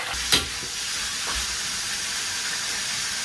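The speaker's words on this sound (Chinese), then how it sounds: "下入五花肉慢煸，煸出它多余的油脂，加入鸡腿继续煸炒" Chicken legs stir-frying with pork belly in a pan, a constant loud sizzle and hiss broken by a couple of light knocks of the utensil against the pan.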